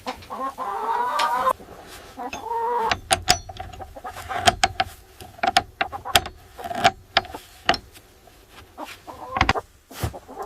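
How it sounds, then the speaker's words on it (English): Farm chickens cluck and peck as they flock to a corn and wheat grain mix outside a coop in extreme Siberian cold, with close, irregular clucks and sharp pecking taps. "the chickens flock to the food, eagerly eating."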